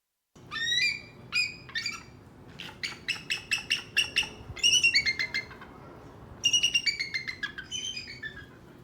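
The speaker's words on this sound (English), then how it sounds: "witness the grand call of the great bald eagle" A bald eagle gives repeated high, thin piping chirps in rapid stuttering bursts, several series rising and breaking off across the stretch, clear and fairly close against quiet background.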